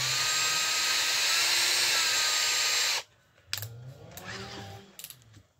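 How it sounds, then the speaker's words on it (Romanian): A power drill spinning a clamped carbon electrode whirs loudly and steadily for about three seconds, then cuts off, leaving quieter mechanical clicks and handling noise. "Prind electrodul în mașina de găurit și înșurubat."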